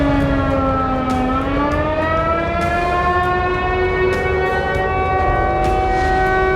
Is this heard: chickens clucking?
no